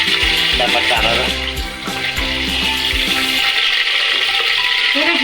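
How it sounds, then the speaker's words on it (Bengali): Cumin seeds are tempered in hot oil while cooking white chole masala: a loud, steady sizzling hiss, close up, with tonal musical notes layered over the frying for most of the stretch. "একটু জিরার ফোড়ন দেওয়া হচ্ছে।"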